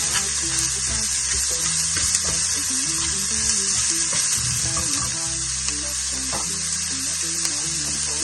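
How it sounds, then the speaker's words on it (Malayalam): Finely chopped carrot and onion sauté in a pan for a coconut cabbage stir fry, giving a steady, close sizzle with intermittent stirring scrapes throughout. "അരിഞ്ഞു വെച്ച, പൊടിയായിട്ട് അരിഞ്ഞു വെച്ച ക്യാരറ്റും അതുപോലെ തന്നെ സവാളയും കൂടെ ഇടാൻ പോവുകയാണ്. നന്നായി ഒന്ന് വഴറ്റിയെടുക്കാം."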